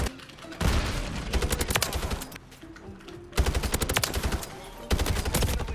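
Rapid bursts of automatic fire from the SOA Subverter (ARX-200) rifle in Call of Duty: Modern Warfare, loud and close, in several sustained strings separated by brief pauses.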